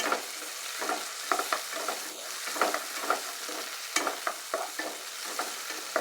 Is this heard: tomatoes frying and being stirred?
yes